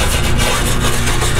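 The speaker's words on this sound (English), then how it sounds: "It is very dusty wire brushing the frame." Wire brush scrubbing rust off the frame of a Toyota Sequoia, a close, loud, continuous gritty scraping with quick back-and-forth strokes.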